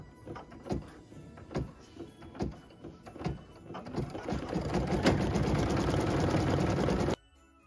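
Embroidery machine stitching a swirly detail for a Christmas tree skirt wedge, starting with spaced mechanical clicks and thumps, then running as a steady, fast, loud rattling hum for several seconds before stopping abruptly.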